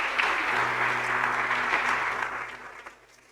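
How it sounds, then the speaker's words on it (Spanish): A church congregation breaks into a dense burst of clapping that holds steady for a few seconds, then trails off near the end. "Démosle una ofrenda de aplauso"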